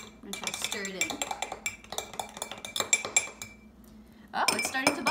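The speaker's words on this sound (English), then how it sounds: "I'm gonna try to stir it in." A metal spoon stirs sriracha sauce in a glass for a home acid-base experiment, giving rapid, close clinking and scraping taps against the glass, with a brief lull before a louder burst of clatter at the end.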